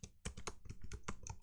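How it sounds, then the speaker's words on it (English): Quick bursts of keystrokes on a computer keyboard while writing Python code, close and crisp, uneven rhythm of clicks with brief pauses, no voices. "And then we'll type in print func."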